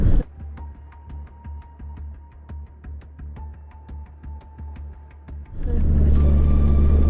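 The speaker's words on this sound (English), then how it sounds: "We were driving on a side of a mountain through super thick fog." Car climbing a foggy mountain road, engine throbbing low and steady with a faint rhythmic ticking, then the rumble swells louder and fuller near the end.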